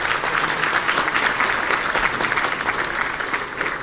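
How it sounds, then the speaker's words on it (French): An audience gives volunteers a warm round of clapping at a French talk on pesticide residues in beeswax, dense and sustained for several seconds before tapering off at the end. "Je demande même de les applaudir"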